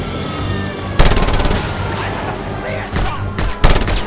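Gunfire in Just Cause 2, heavy automatic bursts and repeated shots layered over a dense, noisy combat background, loud and close, with short clusters of fire separated by quieter stretches.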